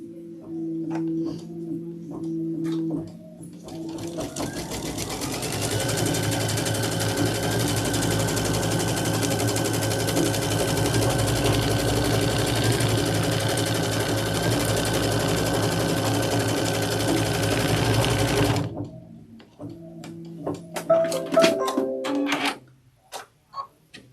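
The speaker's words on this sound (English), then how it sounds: "Stitch the tack down and trim the foam. Okay, we sew the linen in." Sewing machine stitches linen onto foam for seasonal jar toppers, a fast steady mechanical whirring run of about fifteen seconds, close and alone, framed by small handling clicks before and after.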